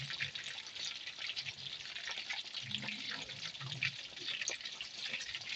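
Chicken frying in a pan gives a steady, close crackling sizzle throughout, with faint talk underneath.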